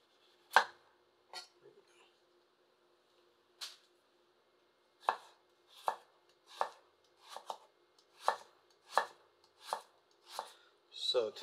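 A chef knife, from an olive wood series, chops carrots on a board: sparse crisp cuts at first, then a quicker, steady rhythm of close, sharp knocks in an otherwise quiet room.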